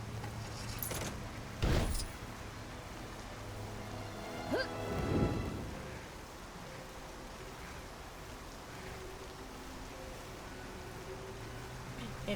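Rain and thunder in the LEGO DC Super-Villains video game: a soft, constant rain hiss with two sharp thunder cracks, one early and one midway, each fading into a brief rumble.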